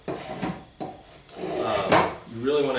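A hand plane set for a deeper cut shaves a wood surface in several short strokes, with scraping rasps and knocks. A voice speaks briefly near the end.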